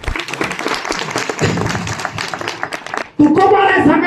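An audience at a devotional kirtan discourse bursts into vigorous applause, a dense close clatter of many hands lasting about three seconds before it cuts off abruptly.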